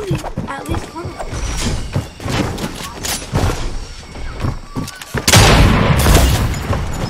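Gunfire and booming blasts from a Fortnite match ring out in loud bursts and rattling volleys over game noise, with excited players talking throughout and a heavier burst near the end.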